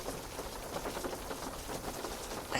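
Steady rain falls and patters on surfaces, a continuous even hiss with no voices.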